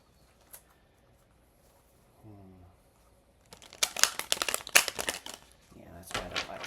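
Tarot cards are shuffled during a candlelit reading, with crisp riffling and flicking bursts in the second half, preceded by quiet handling and a brief low tonal sound.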